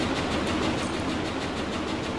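A train moves along the track in the Roblox game Jailbreak, a steady rumbling roar with faint repeating rhythmic clacks, with no voices over it.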